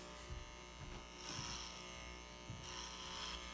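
Electric hair clippers buzz steadily while cutting a teenage boy's hair around the round of the head at home, the close whine rising in two sustained stretches between softer pauses.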